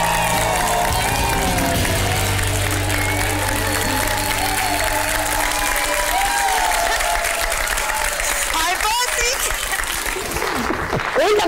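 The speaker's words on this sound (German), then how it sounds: "dein Applaus, Sabrina" Studio audience at a Big Brother talk show applauding a returning housemate named Sabrina, sustained loud clapping and cheering that carries on under a host's voice and other talk.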